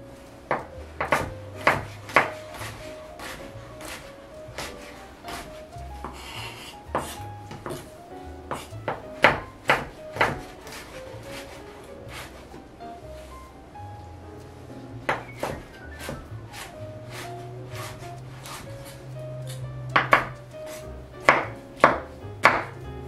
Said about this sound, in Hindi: ये हमारे टमाटर चॉप हो गए